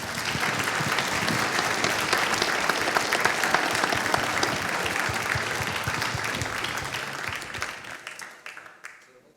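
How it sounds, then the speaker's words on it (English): A crowd at a recognition event applauds warmly, dense steady clapping that holds strong for several seconds before dying away. "So I'd just like to give these folks another round of applause."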